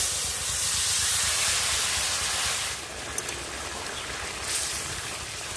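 Bottle gourd curry hits a hot pan and sends up a loud, broad hiss of steam that eases slightly after a few seconds and then keeps sizzling steadily, with no one talking.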